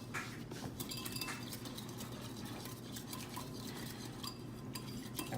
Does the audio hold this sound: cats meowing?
no